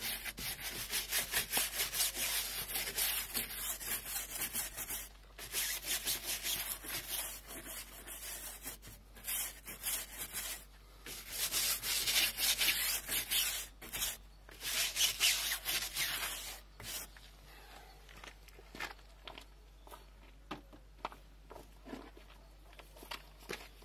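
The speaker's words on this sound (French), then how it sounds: "Je vais avec une brosse à poil rigide frotter le flanc de la roue." A stiff-bristled brush scrubs the sidewall of a Citroën C4 Picasso wheel in repeated close, rasping strokes, with short pauses between bursts and the scrubbing thinning out toward the end.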